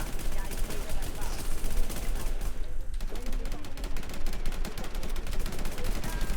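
Rapid bursts of automatic gunfire in a shooting video game crackle loudly and nearly nonstop, with a brief pause midway before the firing resumes.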